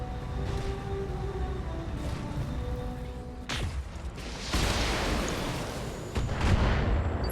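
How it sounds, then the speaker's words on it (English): Weapons fire from BattleTech mechs shooting at buildings: heavy booming shots and rumbling impacts, with a sharp crack midway and a denser roaring burst of fire later, loud and continuous. "And they are continuing to shoot at the buildings"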